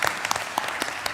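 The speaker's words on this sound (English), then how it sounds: "Please give up the last applause for everybody." Audience applause at an interfaith dialogue event: a brief burst of scattered, moderately faint hand claps from a crowd in a hall.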